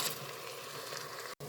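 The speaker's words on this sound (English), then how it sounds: "Just searing it and hard cooking it a tad bit." Ground beef searing and hard-cooking in a pan for sloppy joes, a short burst of steady close hiss and crackle that cuts off abruptly near the end.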